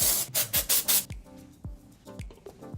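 Several quick aerosol bursts of biotin thickening dry shampoo sprayed into hair, bright hissing puffs in a rapid run at the start, then softer rubbing and handling sounds close by.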